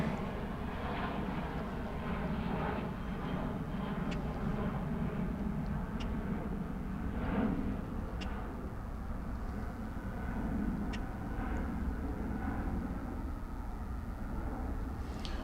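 An airliner departing DFW airport on a morning flight to Seattle, a distant steady jet roar rumbling low and continuous for the whole stretch, faint and far with no talking.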